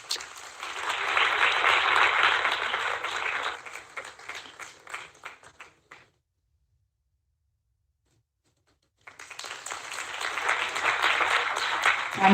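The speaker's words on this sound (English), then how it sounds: "Have a big round of applause." Audience applause at a national conference honouring a chief guest, a broad, steady wash of clapping that fades out into silence for a few seconds, then swells back up just as full and sustained.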